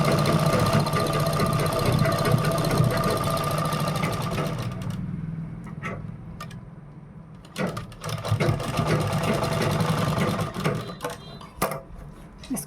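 Sewing machine putting a reverse stitch on a V-neck designer blouse: a long, steady run at first, then short, separate bursts of stitching close by.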